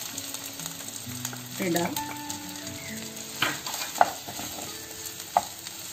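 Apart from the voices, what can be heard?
chicken frying in a pan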